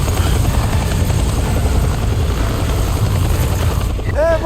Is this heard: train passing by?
no